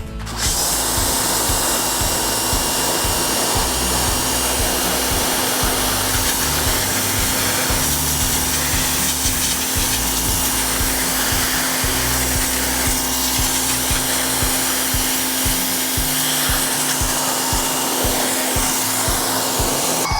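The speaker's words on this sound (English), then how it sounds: "So we're gonna take our pressure washer here." A pressure washer blasts mold off a brick wall corner, producing a loud, continuous, unbroken hiss and motor drone up close for the whole stretch, with no talking over it.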